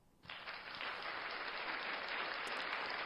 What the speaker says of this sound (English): But big hand clap to you all. You know, applause for you all